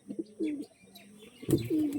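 An Andhra pigeon coos close by, with two soft throaty coo phrases separated by a short pause and faint chirps around them.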